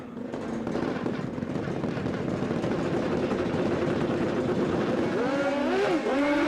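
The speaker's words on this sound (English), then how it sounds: "a lot of wheel spin there for Farnell. They've thrown everything at it on this run." A drag racing car makes a run with wheel spin at Willowbank Raceway, a loud sustained engine roar that climbs in pitch toward the end as the car pulls away.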